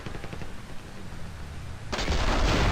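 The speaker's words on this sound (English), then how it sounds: "It shoots slower than a lot of the, or most of the, submachine guns." A submachine gun fires in the online shooter Battlefield Play4free. Rapid rhythmic shots run at a moderate rate, then swell into a denser, louder burst of gunfire toward the end.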